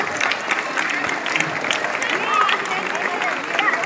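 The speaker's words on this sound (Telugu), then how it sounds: "మనస్ఫూర్తిగా క్లాప్స్ కొట్టండి" Audience of boys and girls clapping at a coaching institute's ranks celebration in Nellore, a dense continuous round of applause in a hall with a voice talking over it.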